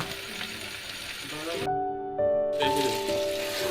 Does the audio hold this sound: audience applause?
no